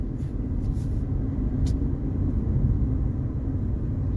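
A truck rolls past on the road, a low rumbling engine roar that stays fairly loud and steady for several seconds, with no talk.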